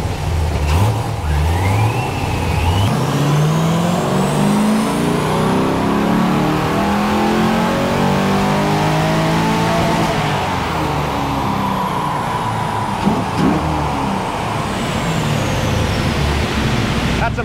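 A BMW E30 with a cam upgrade revs hard on a dyno run, the engine note climbing and falling in a long, loud sweep that fills the whole clip.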